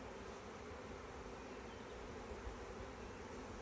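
A dense, steady buzz of honeybees filling an open, strong beehive during an inspection, loud and continuous all the way through, with no voice over it.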